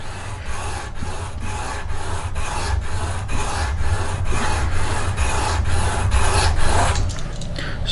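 A broadhead blade is polished on 200 grit abrasive in steady back-and-forth rubbing strokes, about a dozen rhythmic rasping passes, close and fairly loud with a low hum underneath and no talking.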